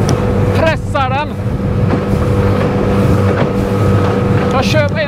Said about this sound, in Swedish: pressar båten och den bara går och går